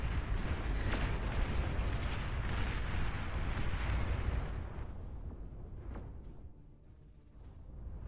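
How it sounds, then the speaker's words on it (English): Nuclear missile launch in a strategy game: a long, loud roaring rumble that swells and holds for several seconds, then drops to a fainter, thinning tail with scattered crackles. "Nuclear missile launch detected."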